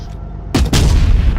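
An FV4005 tank cannon fires in a tank video game: a sudden, loud, close booming blast with a second heavy burst right after, rumbling on to the end with no talk.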